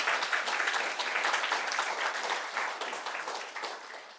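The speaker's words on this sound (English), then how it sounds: "If we could just clap for it" An audience claps steadily through the whole stretch, a dense, even wash of hands at a lecture-hall kickoff event that eases off slightly toward the end.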